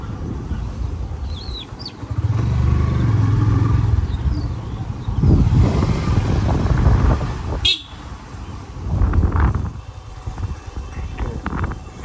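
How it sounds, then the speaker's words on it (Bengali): Motorbike ridden along a village road through farmland beside the Chalan Beel wetland, its engine drone rising and falling with passing traffic and a brief sharp horn-like burst; no one speaks. "আমরা বাইকে করে যাচ্ছি।"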